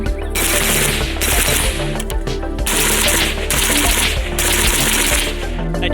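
Zastava M90 rifle firing a rapid, steady string of loud, sharp shots close by, with ringing metallic cracks and no pauses across the whole stretch.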